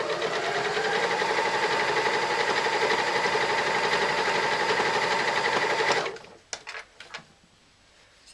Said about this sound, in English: Then I'm going to sew all the way around.